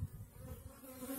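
Honeybees in a barrel hive give off a steady, low, faint buzzing hum for a brief moment, with no voices.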